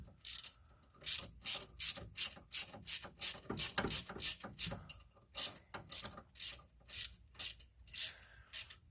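A ratchet tightens coil pack bolts on a 1999 Ford F-150 with a 4.6L engine, a steady run of close, crisp clicking strokes, about two per second, with brief pauses between bursts and no voices.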